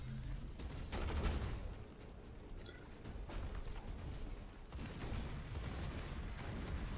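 A tank firing and exploding in the mech strategy game Phantom Brigade, a series of muffled booms and crackling blasts over a rumbling battle din, moderately loud with a few sharper impacts.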